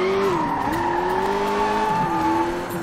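Fast car in the Sleeping Dogs video game, engine holding a steady high whine with pitch dips as it shifts and tires squealing throughout, loud and continuous.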